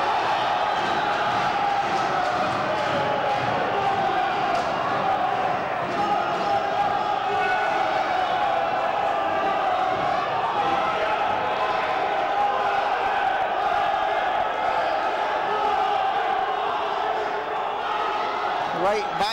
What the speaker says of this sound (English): every punch that Rob Burton throws and lands is getting cheered wildly